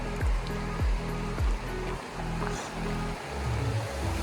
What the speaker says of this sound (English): Let's go look at the creek.